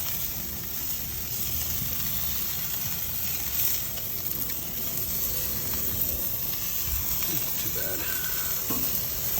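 Chicken pieces searing on a grill give a steady, close, dense sizzle and hiss with occasional faint pops, continuous throughout and with no talk.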